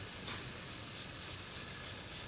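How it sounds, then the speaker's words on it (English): Two fresh garlic cloves rubbed down on a grater for a chicken tomato sauce, giving a steady run of soft, close scraping strokes at a quiet level with no talk. "Got about 2 cloves that I'm going to grate down."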